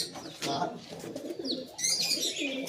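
Soft, low cooing from pigeons repeats close by, mixed with a few brief chirps and rustles.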